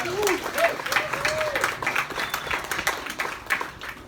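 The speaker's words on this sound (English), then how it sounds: "Let's have another round of applause for Bill, who's done so much here." An audience at a history Chautauqua event claps for an honoured man named Bill. The applause is moderately loud, with distinct hand claps and a few whoops in the first second, and it tapers slightly toward the end.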